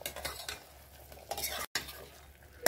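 A spoon stirs chickpeas with water and salt in a pot while cooking chole, giving soft scraping and clinking strokes in short bursts, close and fairly quiet.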